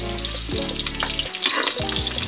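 Chopped onion and garlic fry in a hot pan for a pork and tofu dish with black beans: a steady, close sizzle with a few scraping stirs and utensil knocks.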